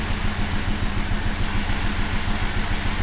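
An engine running with kerosene added to its oil, a loud steady idle with a fast regular low chugging pulse, close and continuous without talk.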